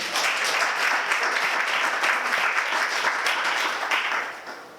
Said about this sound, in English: Can I have a warm applause for him, please?